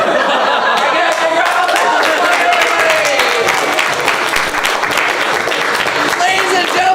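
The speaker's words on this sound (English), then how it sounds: "Give yourselves a round of applause." Sustained crowd applause fills the room at a student improv show's close, dense and loud throughout, with scattered chuckles and voices mixed into the clapping.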